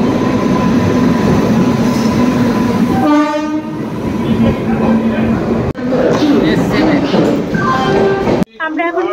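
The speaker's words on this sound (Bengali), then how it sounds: "আমাদের ট্রেন ঢুকে গেছে" A train pulls into a station, its loud rumble continuous, then a long horn blast sounds close by, followed by a second horn and a final short toot as the engine nears.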